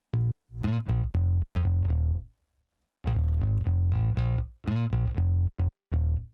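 A Rickenbacker bass sample from a Kontakt library, run through distortion, plays short gritty picked notes in two phrases separated by a brief silence, loud and upfront with no other sound.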